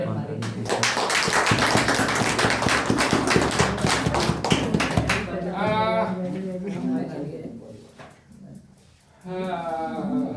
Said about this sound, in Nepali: एकपल्ट फेरि ताली